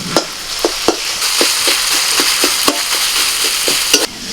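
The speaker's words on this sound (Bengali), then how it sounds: "খুন্তি দিয়ে আমি আরো ছোট ছোট টুকরো টুকরো করে নিচ্ছি" Spatula scraping and breaking spiced chicken into small pieces in a sizzling pan while making Kabul rolls, with steady frying hiss and regular sharp tapping strikes close up, no talking.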